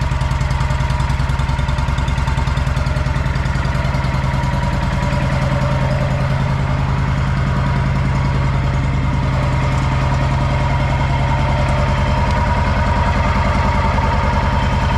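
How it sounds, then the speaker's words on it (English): A freshly rebuilt Wright Stander X mower engine idles steadily and loudly with a rough, even chugging throughout, no pauses and no voices. "It's completely normal when you fire an engine for the first time after a rebuild."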